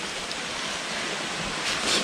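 A waterfall pours in a steady, hissing rush of falling water, constant and fairly close, with no voices over it.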